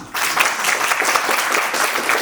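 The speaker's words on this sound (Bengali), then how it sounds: "হাততালি দিবেন না?" Audience in a classroom session applauds steadily, dense clapping starting just after a brief pause and continuing at even loudness to the end.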